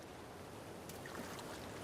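Waterfall in The Legend of Zelda: Breath of the Wild, a constant soft rushing of water at low level with a faint airy hiss throughout.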